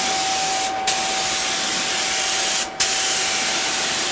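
Sustained, loud hiss of a spray gun laying paint in the engine bay of a 1955 Triumph TR2, with two very brief breaks in the spray.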